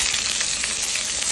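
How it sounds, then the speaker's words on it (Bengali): Chopped onion fries in oil in a frying pan after minced garlic, a loud, dense, continuous sizzle heard close up with no talking. "পেঁয়াজটা ভাজা হতে থাকে"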